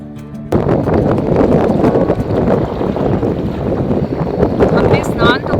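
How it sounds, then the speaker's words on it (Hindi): Strong wind gusting across a sandy Ganga riverside camp near Rishikesh, a loud continuous roar buffeting the microphone with no pauses. "इस वक्त बहुत तेज हवा चल रही है"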